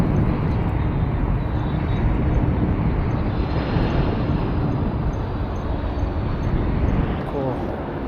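A large FedEx cargo plane passes overhead, its broad steady engine roar filling the air continuously and loudly alongside street noise during an eBike commute.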